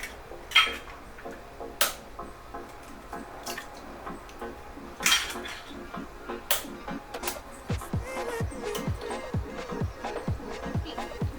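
Eggs cracked into a big bowl in a home kitchen while making zucchini cupcakes, with sharp cracks and taps and then drips and splashes of the eggs falling in, mostly close and quiet, faint talk in the background.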